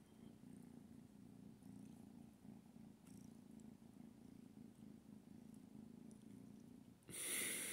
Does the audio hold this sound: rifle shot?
no